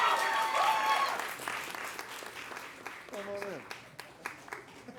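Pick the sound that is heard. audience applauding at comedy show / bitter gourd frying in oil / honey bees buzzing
audience applauding at comedy show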